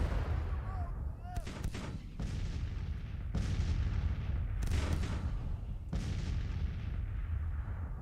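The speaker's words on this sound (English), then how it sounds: "There's over 100 guns going off right now. That's why it's so loud." A massive bombardment of over 100 artillery guns in the Civil War strategy game Grand Tactician, with heavy booms firing in rapid, overlapping succession and a constant loud rumbling roar throughout.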